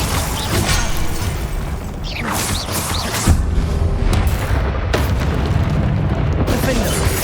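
A Glacius ice spell cast in the video game Hogwarts Legacy, heard as a loud booming magical burst amid a dense, continuous wash of other spell effects and combat noise.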